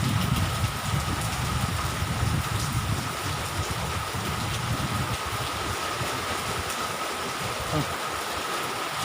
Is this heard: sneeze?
no